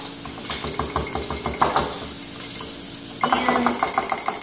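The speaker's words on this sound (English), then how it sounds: "Let's whisk it up." Pomegranate vinaigrette of pomegranate vinegar, olive oil, garlic and onion is whisked in a bowl, giving rapid rhythmic clinks and scrapes of the whisk against the bowl. The whisking grows louder and busier near the end, with no talking.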